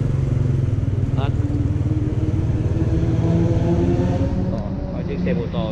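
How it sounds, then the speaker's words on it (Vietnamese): Motorcycle passing along Bùi Viện street in Ho Chi Minh City, a steady loud engine rumble close by that holds through the whole stretch, with a faint brief horn or tone partway through. "Có chiếc xe mô tô vậy ngang rồi"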